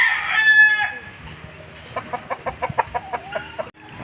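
A rooster crows loudly and close by, a long drawn-out call followed by a run of short rhythmic clucking notes from the fowl.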